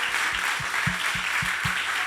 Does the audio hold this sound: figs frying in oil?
no